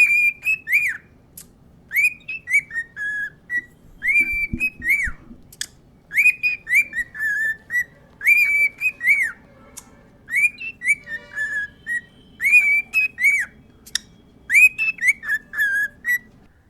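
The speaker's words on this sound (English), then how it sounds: "here's a cockatiel singing nonstop." A cockatiel whistles a recognisable pop tune, clear repeated whistled phrases in a steady rhythm with short gaps, close and loud with no talking.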